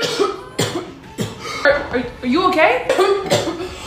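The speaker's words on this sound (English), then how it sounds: "Can't stop coughing." A person coughs repeatedly in harsh, close bursts spread across a few seconds, with another voice briefly speaking between the coughs.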